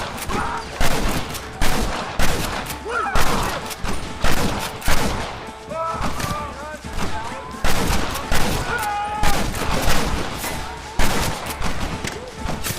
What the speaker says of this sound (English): Get ready to hold off their fire, Marston. Hold them off!